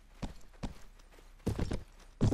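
Horse hooves clip-clop in the Mount & Blade video game, a series of separate thuds at an irregular walking pace, growing closer and louder toward the end, with no talking over them.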